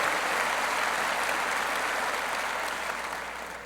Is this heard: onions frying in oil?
no